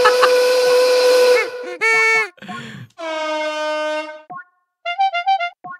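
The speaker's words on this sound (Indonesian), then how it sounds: "Suara klakson ternyata" Loud bus horn honks in Hot Wheels Unleashed 2, several sustained blasts then a string of short rhythmic toots, with a brief spoken exclamation in between.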